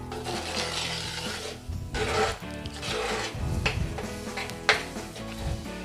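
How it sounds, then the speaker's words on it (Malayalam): A spoon scrapes and rubs around a pot of mackerel curry with tamarind water in a village kitchen, giving a steady run of clinks, scrapes and wet swishes at close range with no talking. "3 ഇല പുളിയും കൂടെ ഇട്ട് നന്നായിട്ട് ഇളക്കുക."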